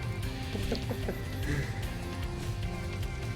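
A pigeon in the video game Spyro 2 Reignited gives a few short clucking coos over a dense, steady bed of game music and ambience.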